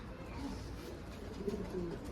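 Soft, low cooing from pigeons, murmuring steadily over a muffled background hum.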